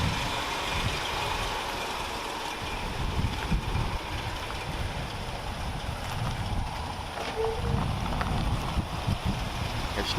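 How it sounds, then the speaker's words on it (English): Strong wind buffets the microphone outdoors as a continuous low rumble and roar throughout, with faint speech in the background. "Excuse that wind. It's real windy today,"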